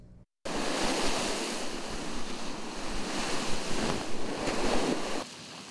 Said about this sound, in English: Drivers dodging high waves and debris which made for a bumpy ride.